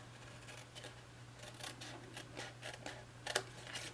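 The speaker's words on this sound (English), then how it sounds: "So we're going to cut here" Scissors snip through a paper box along its score lines, a series of faint close cuts and rustles over a low steady hum, with a slightly sharper snip toward the end.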